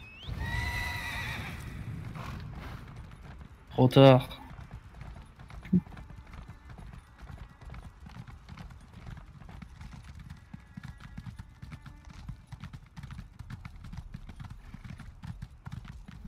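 A horned horse in Elder Scrolls Online gives a sharp whinny around the four-second mark, followed by a long stretch of steady clip-clop hoofbeats; a short spoken phrase comes early, with game ambience underneath.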